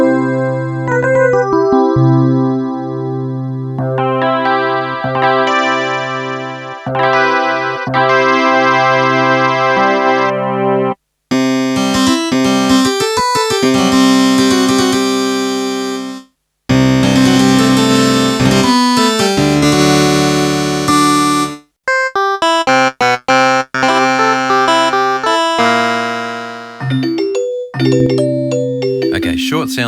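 Default voices of a Yamaha PSS-51 vector joystick synth play in sequence, loud and continuous, shifting from sustained tonal notes to bright buzzy and noisy timbres with short gaps between patches.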